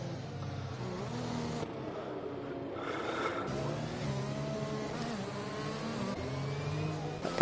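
Formula 1 hybrid-engine race cars in the F1 2021 video game, a steady engine drone with shifting pitch and occasional revving, moderately loud throughout with no talk.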